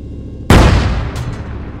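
Artillery fire in the Arma 3 video game with the Iron Front mod: a single loud, close blast that cuts in sharply, then a rumbling decay with a faint crack of debris or echo.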